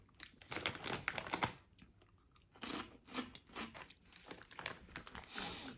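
Doritos 3D corn snacks crunched and chewed close to the mouth, with bursts of crisp crackling bites separated by quieter chewing, no talking.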